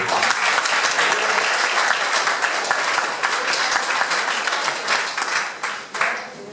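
A church congregation applauding during a worship service, a dense and loud wash of clapping from many people that holds steady and then eases slightly near the end.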